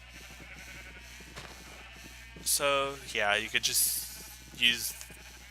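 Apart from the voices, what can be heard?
sheep bleating from a spawner in Minecraft video game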